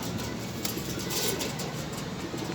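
Soft low cooing of pigeons amid a steady rushing background hiss, continuous and fairly close.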